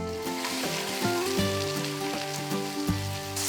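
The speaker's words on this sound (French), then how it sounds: "Quand l'huile est assez chaude, ajoutez la viande. Ça doit grésiller comme ça." Beef searing in hot oil in a cast-iron pot over high heat, a steady close crackling sizzle with scattered pops and spits, no voices.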